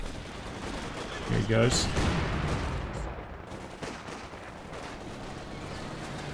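Machine gun fire from a Maxim in a Company of Heroes 2 2v2 match, a short burst of rapid shots followed by a dense spread of battle noise, all under a commentator's voice.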